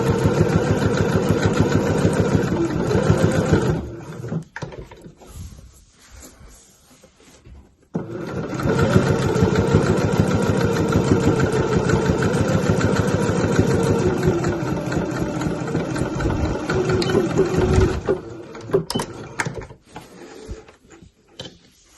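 A sewing machine stitches a zip pouch in long, steady mechanical runs, loud and close, pausing briefly in the middle before starting again and running on to near the end.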